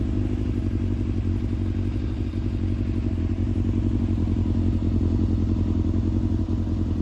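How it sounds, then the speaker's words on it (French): A Yamaha Fazer 600 motorcycle engine idles steadily after starting, a loud close low rumble with even mechanical clatter throughout and no talking. "maintenant que la moto est démarrée"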